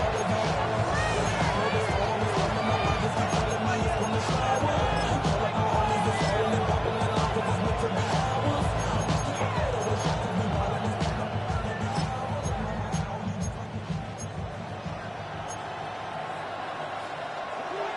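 A stadium crowd roars continuously through a late-game third-and-goal moment against the Giants in an American football video game, a dense, loud, steady wash of cheering with no distinct breaks.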